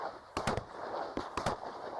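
Hunters in a marsh fire shotguns at ducks, several sharp reports in quick pairs, distant and echoing against a steady outdoor background.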